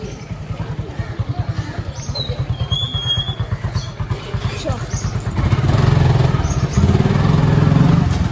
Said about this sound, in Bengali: বাইক বের করছে